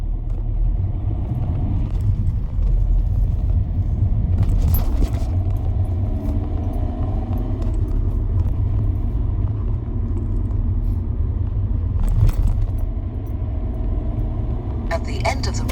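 A car moves off on a residential street during a driving lesson, a steady low engine rumble from inside the cabin with a few brief clicks and rattles.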